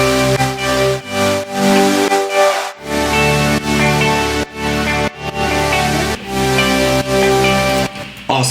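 Fifteen-layer synth stack from a future bass track, loud sustained chords in choppy rhythmic bursts with short gaps, dense and bright, no voices.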